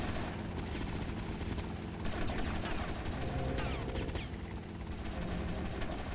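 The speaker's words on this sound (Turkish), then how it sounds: "Helikopter geliyor bir tane." A helicopter approaching in the video game GTA Vice City Hardlined, a loud continuous rotor and engine roar, with bursts of gunfire layered over it.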